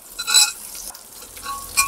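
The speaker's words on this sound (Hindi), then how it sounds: "इसको थोड़ा देर भूनते हैं सजना को, और सब्जी का थोड़ा भून के ना इसका हरापन मिटा देंगे" Chopped vegetables including drumstick pieces sizzle and are stirred in a pot of fried onion while cooking sambhar, truck driver style, with short bursts of frying and scraping, fairly close, no talk.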